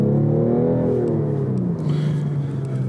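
A new BMW 8 Series engine switched into sport mode, a steady low drone with harmonics that sweep downward and settle into a rumbling idle, continuous and close throughout.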